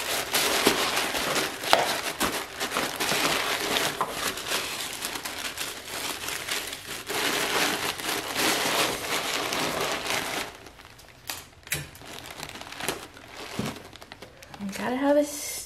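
Paper and plastic packing material crinkling and rustling as an invoice is tucked into a soap order package, close and busy, followed by quieter handling sounds and a brief voice.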